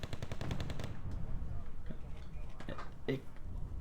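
Tank battle in World of Tanks, with rapid, regular automatic fire at the start and scattered shots and impacts later. Commentators talk over the gunfire throughout.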